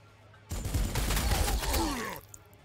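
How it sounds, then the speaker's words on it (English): Sustained gunfire in the strategy game Warhammer 40,000: Sanctus Reach, a dense burst of rattling shots lasting over a second and a half, loud and close, then cutting off abruptly. "Let's just shoot them up."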